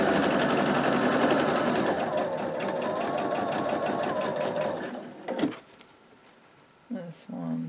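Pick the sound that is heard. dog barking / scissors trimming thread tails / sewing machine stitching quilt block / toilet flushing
sewing machine stitching quilt block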